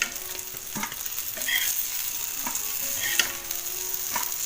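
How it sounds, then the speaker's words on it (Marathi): Coated surmai fish fillets shallow-fry on a large tawa until crisp, giving a steady, close hiss of sizzling oil broken by a few soft scrapes and taps as the pieces are turned. "हे बघा दोन्ही साईडने चांगले असे परतून झाले, म्हणजेच फ्राय करून झालेले आणि मस्त असे कुरकुरीत झाले."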